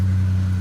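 A parked truck's engine idles loudly outdoors, a steady low rumbling drone with no change in pitch over a brief moment.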